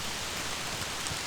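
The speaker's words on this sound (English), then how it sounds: "So the rain's starting to pick up again." Steady rain pours down on a wild campsite, a dense, even hiss of drops striking tents and ground that fills the whole moment without any pause or voice.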